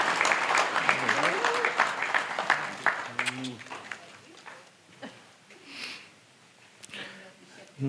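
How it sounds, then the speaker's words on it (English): Applause from wedding guests during the speeches, a dense burst of clapping at the start that thins and fades, with voices mixed in. "Round of applause."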